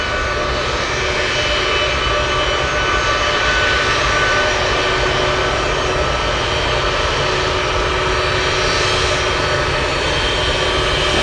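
Heavy cargo aircraft on runway 15 at Anchorage airport in gusty winds produce a loud, continuous engine roar with steady whine and rushing wind noise throughout.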